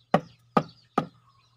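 Three sharp, evenly spaced knocks sound up close as tiles are tapped into place while building a low-cost snail pond, each hit dying away quickly in an otherwise quiet space.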